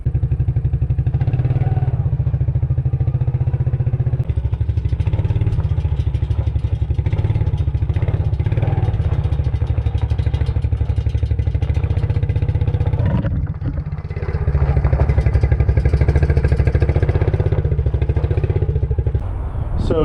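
A Suzuki King Quad 300 4x4 ATV engine idles steadily and loud and close, with a deep, even drone that holds for the whole stretch and rises briefly around the middle, and no voices over it.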